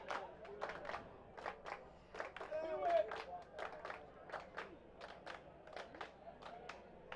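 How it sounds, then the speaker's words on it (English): A crowd at the World Athletics Championships 2022 claps in rhythm for a high jumper's final jump, a steady run of sharp claps at moderate distance with some crowd noise and voices underneath. "This is the last jump of the day, so we're going to do a clap for this guy."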